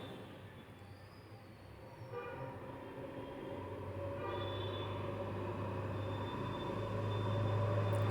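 A train at Chennai Central station rumbles with a steady low drone that grows gradually louder, with faint metallic tones and a brief high squeal, and no talk over it.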